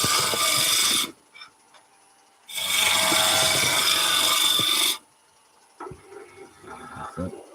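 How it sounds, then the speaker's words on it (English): Woodturning lathe cutting wet wood, two loud rasping scraping passes of about one and two seconds with quiet gaps, followed by softer intermittent tool scrapes near the end. "Another couple of cuts."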